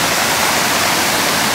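Water at a covered bridge and nature path in Cullman County, Alabama, diverted from a pond to a water wheel, rushes steadily as a dense, close, waterfall-like hiss with no voices.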